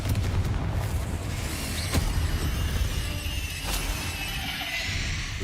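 A Confringo fire spell explodes in Hogwarts Legacy, a loud boom with crashing bursts and rumbling game effects continuing underneath, no voices.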